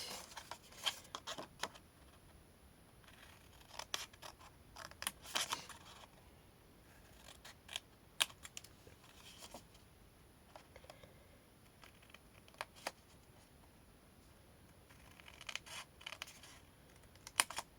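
Scissors snip through paper for a scrapbook box in short, sharp, scattered cuts, close and quiet against a hushed room.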